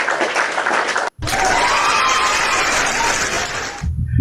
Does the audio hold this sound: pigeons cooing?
no